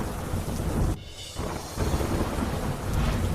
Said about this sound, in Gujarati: સુરતના બારડોલીમાં ધારે વરસાદ પડ્યો